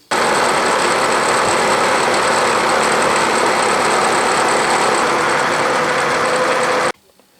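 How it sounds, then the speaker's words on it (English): A milling machine squares up the end of a workpiece with a 3/4 inch solid carbide cutter, giving a loud, steady, close whirring and cutting roar that holds unbroken for about seven seconds, then cuts off abruptly. "I'm going to square up the end, and I'm using this 3/4 inch solid carbide Niagara cutter"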